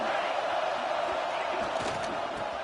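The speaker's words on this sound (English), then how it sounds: "This crowd's ready to make its presence known." A packed stadium crowd in the video game College Football 26, a broad steady roar, loud and unbroken, with faint voices mixed into the din.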